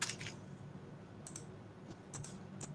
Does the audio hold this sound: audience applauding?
no